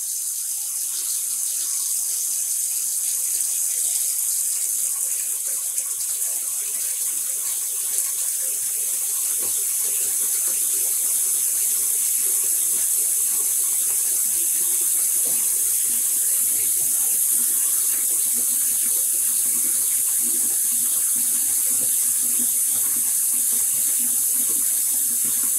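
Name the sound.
tap water running to rinse dyed yarn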